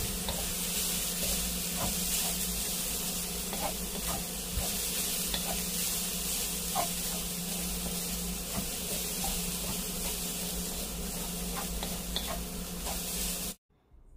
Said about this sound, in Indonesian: Kemudian aduk-aduk hingga semua tercampur merata.